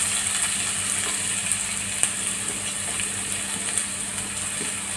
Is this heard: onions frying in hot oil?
yes